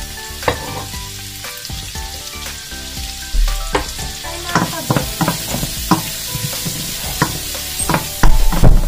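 Plenty of sliced onions fry in oil for a sauce, hissing steadily up close while a spoon stirs and clacks against the pan in uneven bursts that grow louder toward the end.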